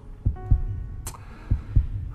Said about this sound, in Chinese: 我要确定你的心跳和他是不是一样的呀